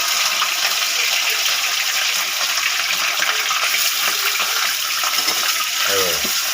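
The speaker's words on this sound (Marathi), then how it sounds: "हे चिकनचे जे आपण पीस तयार केलेले आहेत ते बघा, ते आपण फ्राय करून घेणार आहोत." Chicken pieces fry in hot oil with a dense, continuous loud sizzle and crackle close up, and a brief low voice appears near the end.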